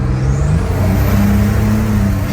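A GMC Syclone truck accelerates hard, its engine note loud and close, climbing steadily in pitch for a couple of seconds with no talk over it.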